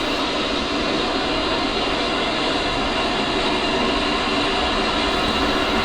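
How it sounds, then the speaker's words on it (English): A-10C's right jet engine spooling up during a cold start in the DCS flight simulator, a steady, loud broadband turbine roar with a high whine that holds evenly throughout, no voices. "So that will start up the right engine first."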